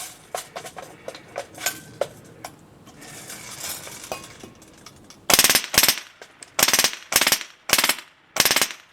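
An airsoft gun fitted with a drum magazine fires sharp repeated bursts, loud and close; lighter clicking and rattling of handling come first, then several quick full-auto volleys separated by brief pauses.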